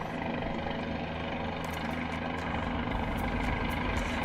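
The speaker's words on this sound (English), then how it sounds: "it runs a little smoother when I actually get the helicopter running smoother" A Guimbal Cabri helicopter in Microsoft Flight Simulator gives a steady, loud simulated engine and rotor drone with a constant low hum and no speech.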